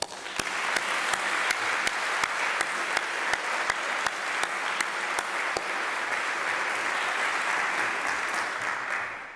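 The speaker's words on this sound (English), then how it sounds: "Would you please join me in giving a round of applause to celebrate these" Sustained audience applause at a university campus event celebrating awardees; a dense, even wash of clapping with a few sharp nearby claps standing out, steady for about nine seconds.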